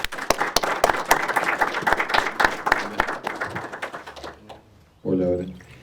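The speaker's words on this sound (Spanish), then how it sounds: "Lo recibimos con un aplauso." An audience at a commemorative panel on the 40th anniversary of the Malvinas claps to welcome a speaker, crisp individual claps thinning out and fading, then a voice starts speaking near the end.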